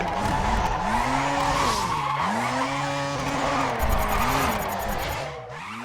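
A Mazda RX7 drifting downhill on the Mount Haruna course in the racing game GRID lets out long, loud, wavering tire squeals over a steady engine drone, the skid pitch bending up and down through continuous slides.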